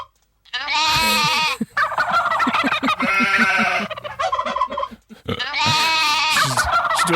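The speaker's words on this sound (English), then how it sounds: "this is Ellen talking to her indoor sheep" An indoor sheep bleats loudly and close up, a string of long, wavering, nasal calls broken by short pauses, then a final drawn-out bleat.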